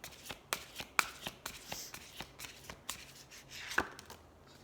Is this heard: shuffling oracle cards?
yes